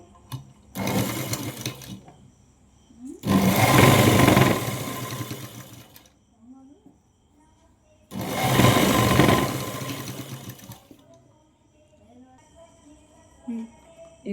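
A sewing machine stitches folded fabric on a Punjabi dress, running in three loud bursts of steady whirring separated by pauses, with someone talking quietly in the gaps.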